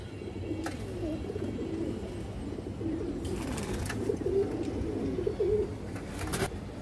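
A red female pigeon coos softly over and over, a low, throaty, rolling call repeated through a steady background hum, with a few brief knocks and rustles but no talking.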